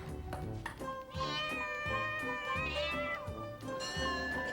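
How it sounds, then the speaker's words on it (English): A cat meows repeatedly, several drawn-out, tonal cries close up and fairly loud, with brief gaps between calls and no talking. "Fritz the cat, who played table tennis better than any feline"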